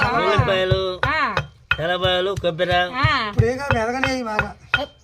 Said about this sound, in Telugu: రోట్లో వేసుకొని దంచుకుంటే భలే ఉండిద్ది.